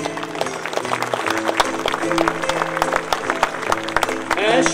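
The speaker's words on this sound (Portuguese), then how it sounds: "um aplauso para o José, um filho da" Applause for a local son of the parish at a Portuguese folk singing event, a dense crowd clapping steadily and close under music and singing throughout.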